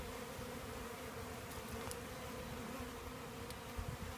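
A steady, dense buzz from honeybees at a hive during a queen installation, loud and continuous, with a few faint brief clicks.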